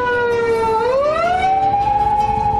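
A passing Japanese police car's siren wails steadily, its pitch dipping and then rising, loud and fairly close, with no talk over it.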